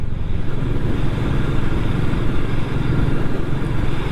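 A Royal Enfield Meteor 350 with a 350cc single-cylinder engine, recently given a valve adjustment and air filter mod, thumps steadily while riding, a loud, continuous low rumble up close with wind noise and no talking.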